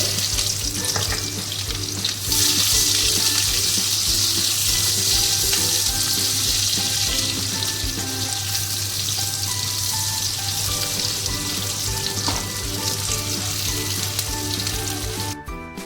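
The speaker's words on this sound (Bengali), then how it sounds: "পেঁয়াজ কুচিটা দিয়ে দিলাম তেলে" Chopped onion frying in hot oil with whole cumin seeds and dried red chilies, a loud, steady, close-up sizzle with crackling spatter that holds throughout, with no talking.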